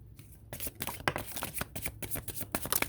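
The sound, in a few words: shuffling a deck of tarot cards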